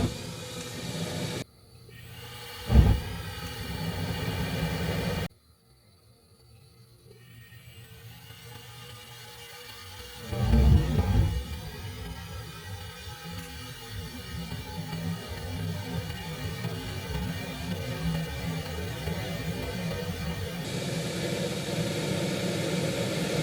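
A gas heater lights off with a brief whoosh, then settles into a steady low roar and hum that keeps running at moderate level.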